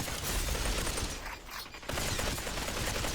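Rapid, sustained gunfire from the VR shooter Population: One: a dense, continuous barrage of shots that briefly drops away in the middle, then resumes at full strength. No voices are heard.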